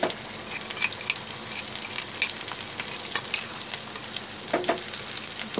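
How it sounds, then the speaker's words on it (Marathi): Masala gravy for chole chana masala fries steadily in hot oil, a continuous crackling sizzle with scattered sharper pops and occasional stirring scrapes, close and fairly loud, no voices. "तेलामध्ये चांगली फ्राय करून घ्यायचा मसाला तो."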